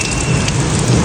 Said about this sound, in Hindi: बाहर बारिश आ रही है